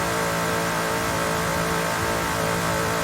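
A race car engine screams against the rev limiter at the bottom of the hill at Bathurst, a loud, steady, buzzing roar with slight stuttering, heard from onboard for the whole stretch.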